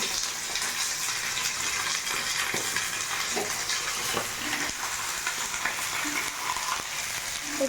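Broiler chicken pieces frying in a pan after onions, stirred steadily: a continuous close sizzle with soft scraping strokes, no talk.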